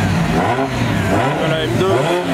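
A V10-powered drift car at a car meet revs hard, its engine note swooping up and down in quick repeated surges, loud and close.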